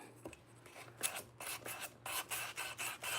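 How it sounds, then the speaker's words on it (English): Sandpaper rubs over a terracotta flower pot painted dark brown in short, rhythmic, close strokes, faint at first and then firmer, with no talking. "And I think I'm gonna sand it first a little bit."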